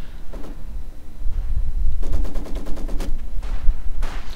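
Maxim machine gun fire in the Company of Heroes 2 strategy game, heard as a loud, rapid burst of evenly spaced shots after a rumbling buildup, with further distant gunfire and battle noise around it.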